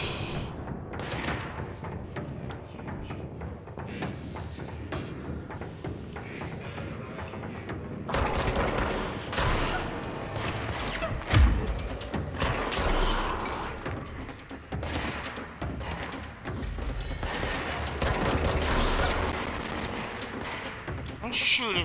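Gunfire in the video game Control, a run of overlapping shots and booms over busy game sound, growing louder and denser from about eight seconds, with someone talking over it.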